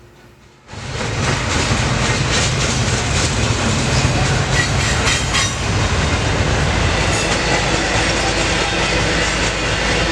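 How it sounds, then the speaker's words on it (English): A fully laden freight train rolls over a bridge in a loud, continuous rumble of wagons and wheels with faint clicking and squeal, starting abruptly and staying close throughout. "a fully laden freight train"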